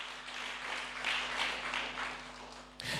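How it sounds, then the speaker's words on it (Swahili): A church congregation in Nairobi claps and cheers for Jesus, a dense, steady wash of many hands filling the space for about three seconds before a brief break and a fresh burst. "Piga makofi kwa Yesu."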